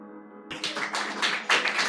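Audience applause at a Hindi-Punjabi poetry recital, a sudden burst of many hands clapping that follows a sustained tone and carries on steadily, close and lively, with no voices.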